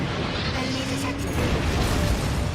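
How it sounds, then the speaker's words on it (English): An autonomous grinder wheel machine in the video game Armored Core 6 grinds and rumbles in a dense, steady mechanical roar with a faint whine. It builds slightly louder toward the end. "An autonomous grinder wheel."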